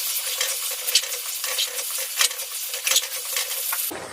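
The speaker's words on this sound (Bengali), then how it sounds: "এবার আমি ছেড়ে দেবো ডিম।" Beaten eggs go into a sizzling egg curry with yogurt on a low flame, and a spoon stirs through the steady frying hiss with soft scraping clinks against the pan.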